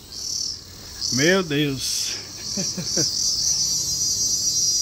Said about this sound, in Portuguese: Dá pra ver pelas cigarras aqui, né? Estão animadas aí logo pela manhã.